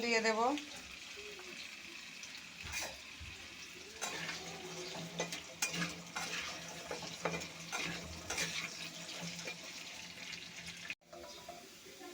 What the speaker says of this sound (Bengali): পটলগুলো এখন ভেজে নেব